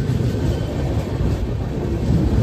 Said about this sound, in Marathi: ऑन टाईम गाडी आपली चालली आहे फुल सुसाट